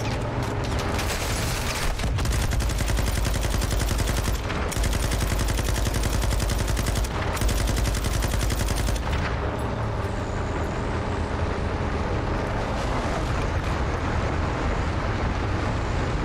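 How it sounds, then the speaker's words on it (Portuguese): Rapid bursts of light machine gun fire in the video game Call of Duty: Modern Warfare 2 (2022), a dense rattling stream broken by brief gaps over a continuous engine rumble from a moving vehicle convoy. "Nossa, metralhadora leve tá maravilhosa, hein?"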